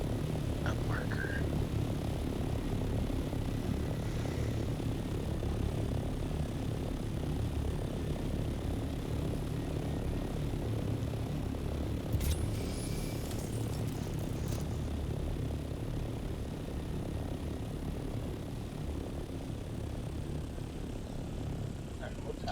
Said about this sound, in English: I should probably start flying this fucking copter back.